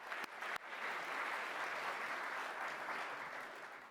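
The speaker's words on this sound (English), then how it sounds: "So we can give her a clap" Audience clapping at a community college all-employee meeting, a steady wash of applause from a seated crowd that holds for several seconds and slowly fades, with no voices over it.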